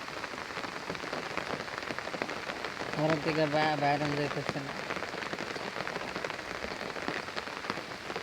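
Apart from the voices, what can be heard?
heavy rain falling in a village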